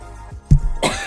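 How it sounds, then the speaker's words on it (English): A single sharp cough close to the microphone during a live futures trading stream, followed by a short rough throat-clearing rasp, alone with no talk. "I missed the cough button on that."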